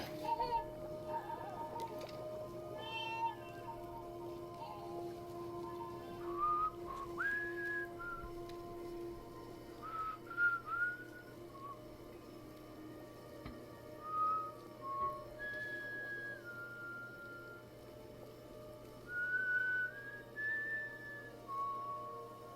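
Someone whistles a wandering melody in short rising and falling phrases through a Death Stranding game scene. A steady hum and faint ticking run underneath, and there is no speech.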